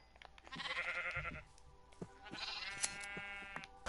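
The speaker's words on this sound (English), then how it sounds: "My sheep don't even take up any space." Sheep bleating in Minecraft, with two drawn-out, wavering bleats close together and fairly loud, set against a quiet in-game background. No one speaks.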